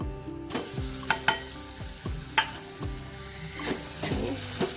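Fresh grated coconut stirred into melted jaggery in a pan over low heat: a soft bubbling sizzle broken by regular scraping strokes and light metallic knocks of a spoon, close and without talk.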